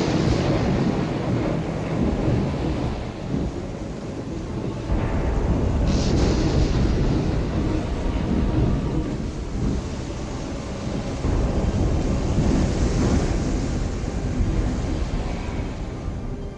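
A storm at sea from the Settlers 2 intro, with a dense, steady roar of wind and crashing water and low thunder rumbles, loud and continuous throughout.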